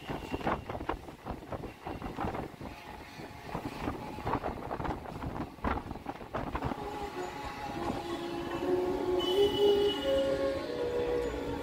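A Barddhaman-Howrah super local train on the Chord line rolls along, with rumbling, rattling carriages and rhythmic wheel clatter under wind noise, the sound building louder toward the end with a faint high squeal.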